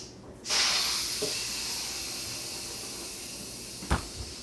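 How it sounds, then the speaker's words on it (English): Steam hisses loudly and steadily from a pressure cooker's quick release valve on the lid, starting abruptly and fading slightly, with a brief knock near the end. "You can see the steam coming out."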